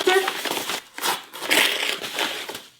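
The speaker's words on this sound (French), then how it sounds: "Je vais ouvrir mes 2 enveloppes juste avant." Paper envelopes are torn and opened close by, giving bursts of crinkling, tearing and rustling paper with short pauses between them, while a person talks over parts of it.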